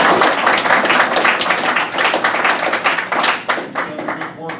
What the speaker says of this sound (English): Diane, a round of applause.